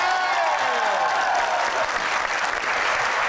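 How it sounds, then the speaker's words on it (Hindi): Lahore Qalandars cricket supporters in a studio audience applaud with full, sustained clapping, a voice trailing off at the start before the applause carries on alone. "लाहौर कलंदर के तालियां बजाएं।"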